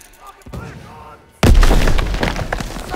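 A grenade explodes in Call of Duty: WWII during the D-Day landing in Normandy, 1944: a sudden loud, deep boom breaks a quieter stretch and is followed by sustained rumbling battle noise and scattered crackling.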